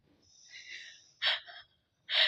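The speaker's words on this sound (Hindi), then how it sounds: "इसके खर्राटे सुनो" Someone snores nearby in loud, breathy rasps, with pauses between each pull of air.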